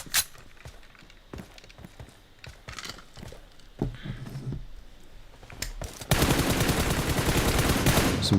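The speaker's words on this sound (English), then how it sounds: "Some good shots coming in from Pain" Gunshots in the battle royale game PUBG Mobile, scattered single cracks at irregular intervals building into a dense, continuous burst of rapid automatic fire at the close, loud and near.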